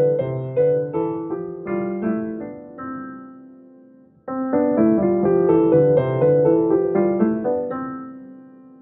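A piano plays a simple finger-practice scale. Distinct notes step upward and back down, with a short gap partway through before a second, louder run of notes.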